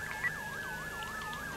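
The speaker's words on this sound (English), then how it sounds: "Let's go ahead and get a siren check." An emergency vehicle siren sounds in a roleplay video game, a steady rising and falling wail that repeats about every quarter second, loud and alone with no talk.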